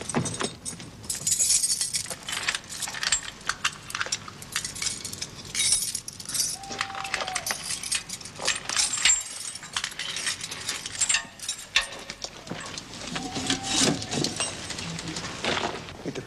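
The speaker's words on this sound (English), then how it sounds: "Produce the skeleton keys." Metal skeleton keys jangle and clink against a lock being worked, a busy run of bright rattles and chinks throughout, close and fairly loud.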